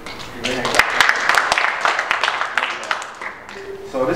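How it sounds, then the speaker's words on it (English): An audience at a poetry event breaks into a burst of clapping and cheering that fills the room, with voices talking over and around the applause. "Give a hand clap."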